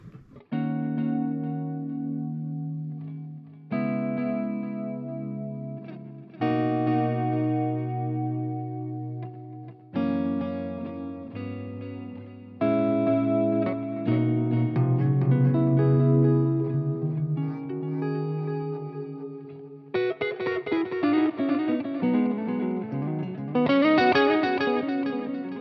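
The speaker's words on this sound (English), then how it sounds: "that delay is the 2290 with some modulation on there" Electric guitar through a Fractal FM3 with a 2290-style delay and modulation turned all the way up, ringing chords and notes trailing into warbling, wavering repeats, played in several separate phrases, loud and close with no talking.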